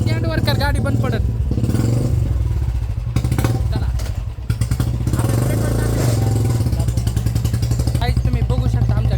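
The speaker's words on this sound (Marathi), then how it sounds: "हा एका किक मध्ये भाऊने गाडी चालू केली" Motorcycle engine running after a single kick start, a loud close rapid idle putter with a brief dip and revving, while someone talks over it.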